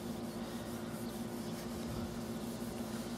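Surface rust is rubbed off metal after treatment with WD-40 LTCI or Break-Free CLP, a steady close rasping scrub that continues evenly throughout, no voices.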